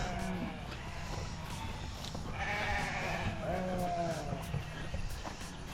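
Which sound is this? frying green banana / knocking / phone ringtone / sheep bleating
sheep bleating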